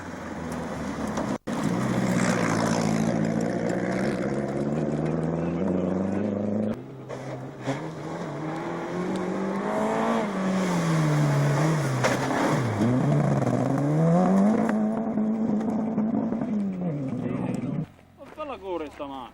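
Rally car engine at the 1992 Rallye dell'Isola d'Elba, rising and falling in pitch as it revs and shifts through gears, fairly close and loud, with voices talking over it.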